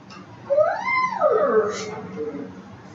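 A human voice imitating a dog-like whimper, a rising then falling whiny wail held for about a second, followed by softer trailing vocal sounds, close and fairly loud.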